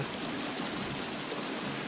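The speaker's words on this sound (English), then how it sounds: "Oh, yeah, there is water down there." Water runs in a stream in the survival video game The Forest, a steady, even rushing flow with no voices over it.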